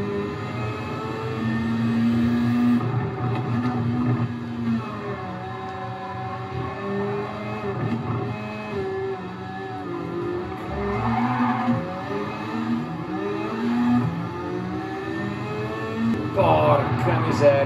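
A Toyota Supra race car laps a racing video game course in Sardinia, its engine droning and shifting pitch steadily throughout, with occasional tire squeals as it corners.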